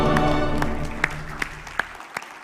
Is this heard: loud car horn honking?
no